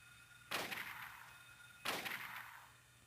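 Two loud gunshots in the Silent Hill video game, spaced about a second and a half apart, each a sharp blast with a decaying tail over a low steady background hum.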